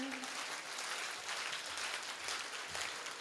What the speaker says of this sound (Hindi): तालियां बहुत कमजोर हैं आपकी।